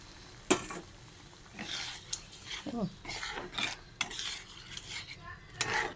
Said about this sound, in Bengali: একটু জল, মশলার জলটা একটু ঢেলে দেওয়া হলো।